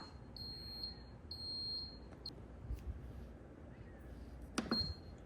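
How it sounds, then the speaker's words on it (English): A bread machine beeps in high electronic tones, two longer beeps followed by a short one, with a soft clatter and a final beep. "Okay, that's beeping. That means to take it out."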